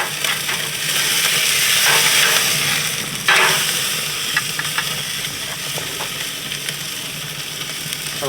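Picanha searing on a Lonestar Grillz offset smoker sizzles with a loud, close, continuous hiss that swells briefly, surrounded by scattered small crackles and pops.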